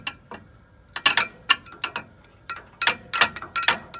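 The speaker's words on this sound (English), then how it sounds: "There's all the racket she's making, which means that the flywheel or the crankshaft isn't balanced on this end at all." Sherman tank engine with an unbalanced crankshaft or flywheel, making loud, irregular metallic clattering and knocking bursts up close, with no talk.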